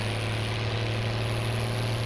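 Old Mercedes-Benz tractor engine of up to 150 horsepower idling in Farming Simulator 17, a steady, loud, low droning hum with a constant rumble and no change in pitch throughout.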